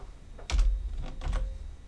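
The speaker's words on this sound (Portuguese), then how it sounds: "O que tem esse teclado?" Computer keyboard keys clatter in a few quick bursts of clicks, close and fairly loud, with short pauses between the strokes.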